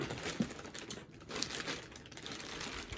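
A plastic bag crinkles softly and steadily as a pair of Sia Collective Culture Vulture "Tiffany's" sneakers is unpacked. The rustling is close but quiet, with a few sharper crackles and no voices.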